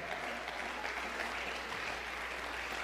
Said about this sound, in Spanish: Dele aplauso al Señor que vive y reina para siempre.